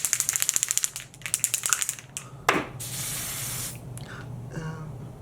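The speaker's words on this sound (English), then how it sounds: "Some Dior airbrush." Dior airbrush makeup sprayed in short hissing bursts, a quick run of rapid pulses followed by longer broad sprays, close and fairly loud with no talking.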